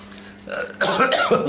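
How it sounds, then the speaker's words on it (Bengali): A person clears their throat with one short, close, rough cough-like rasp that swells and fades within about a second. "আমার গলায় কাশি লাগলো"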